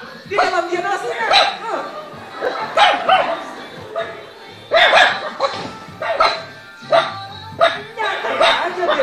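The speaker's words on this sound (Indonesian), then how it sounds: "Nyata aja dia bilang ini anjing ribut amat sih." Two caged dogs, one larger than the other, bark repeatedly in loud, close bursts. Yips and whimpers come between the barks, and someone talks over them.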